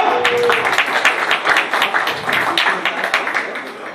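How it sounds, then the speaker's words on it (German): An audience at a three-day Dortmund retro computer meetup applauds, a continuous crackle of many hands clapping at moderate distance, with little talk over it. "Ja, ruhig mal Applaus."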